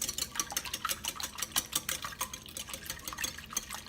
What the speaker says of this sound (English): So I'm going to start off with 4 large eggs. I'm going to just kind of beat these up.